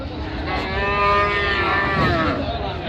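A Sahiwal cow gives one long, loud, close moo at a busy cattle market near the Joypurhat border, the low call rising and falling over a background hum of the crowd.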